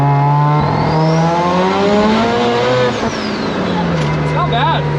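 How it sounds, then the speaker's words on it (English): An old project car with primary and secondary carburetor stages pulls hard in second gear, its engine note rising steadily and loud up close, then dipping as it shifts, with talk over parts of it. "this will be my first second gear pull with this thing"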